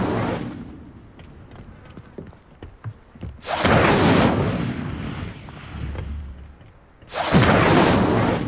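Incendio fire spell cast in Hogwarts Legacy, two loud whooshing fiery bursts several seconds apart, each a broad roaring blast that swells and fades over quieter game ambience.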